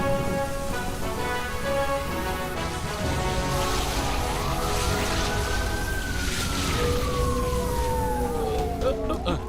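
An ambulance siren wails through a Tamil movie fire rescue scene, its rising and falling tone cutting through a dense, noisy backdrop of rushing, rain-like hiss, loud and sustained.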